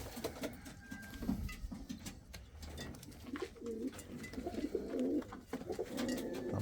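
Indian fantail pigeons coo softly in a loft, repeated low throaty calls over faint background rustle and patter, with no talking.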